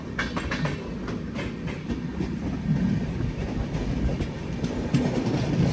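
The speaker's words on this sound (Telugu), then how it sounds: "By by Coimbatore LTT express." The Coimbatore–LTT Express rushes past close by, a steady loud roar with rapid clickety-clack wheel beats over the rails, heard from a moving train near Diva Junction.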